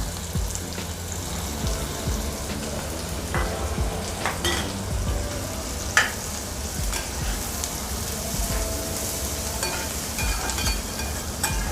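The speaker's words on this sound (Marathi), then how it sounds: "कांदा पण आपण सोनेरी रंगावरती परतून घेणार आहोत" Garlic and finely chopped onion fry in hot oil for egg fried rice, a loud, steady close-range sizzle with occasional stirring scrapes and one sharp clank against the pan.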